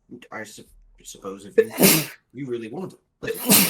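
Two sharp, loud sneezes from a nearby person burst out between stretches of conversational speech, each a sudden noisy blast that fades quickly.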